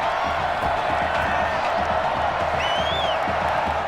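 An American football crowd roars and cheers after a deep completed throw, a dense continuous wall of stadium noise with scattered whoops and a whistle-like tone rising above it, steady and loud throughout.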